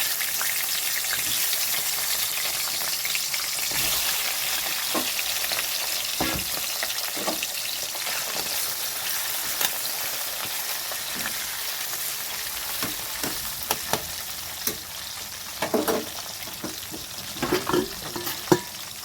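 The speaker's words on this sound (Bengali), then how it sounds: "এই তেলের মধ্যে মাছগুলো ভেজে নিচ্ছি" Tengra fish fry in hot oil in a karahi, a steady close sizzling hiss with occasional pops and spatters growing sharper toward the end, plus a few utensil knocks.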